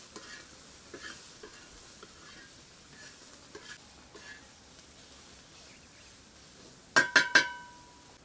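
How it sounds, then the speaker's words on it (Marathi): Onion fries in oil for a matar paneer: a faint sizzle with occasional stirring strokes, then a quick burst of three sharp metallic clinks near the end. "आता कांदा भुजून घेतो तेल टाकतो"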